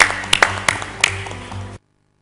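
A short burst of audience applause welcoming the Managing Director of Pfizer India at a brand panel event, scattered claps over a steady room hum before cutting off abruptly.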